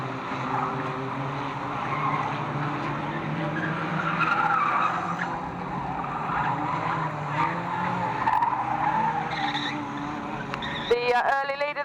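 Rookie-class race cars lapping the track at Fleet Raceway, engines droning at a distance with tire squeals, under crowd noise and a track announcer's voice.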